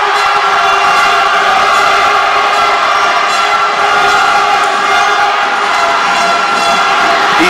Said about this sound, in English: Now they have something really to cheer about.